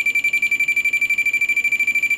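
A multimeter's continuity beeper gives a shrill, steady-pitched tone chopped into rapid even pulses, about eight to nine per second, close and clear with nothing else around it.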